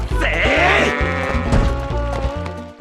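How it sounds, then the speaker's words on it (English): Goats bleat loudly in a video game prologue, with several close, wavering calls overlapping over a busy game backdrop. "You're even asked to herd goats twice"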